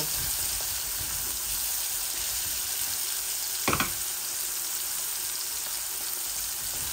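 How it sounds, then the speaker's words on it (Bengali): Continuous sizzle of onion frying in a pan with garlic, with a brief clatter near the middle as something is stirred or added; no talking. "আমি পেঁয়াজটা দিয়ে দিব।"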